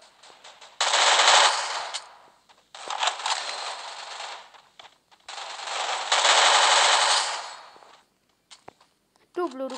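Automatic gunfire in a mobile battle-royale shooting game comes as three long, loud, rapid bursts separated by short gaps, followed by scattered single clicks and effects.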